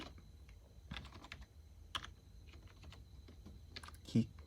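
Soft, quick clicking of fingers typing on a computer keyboard, close and fairly quiet over a steady low electrical hum, with a slightly louder keystroke near the end.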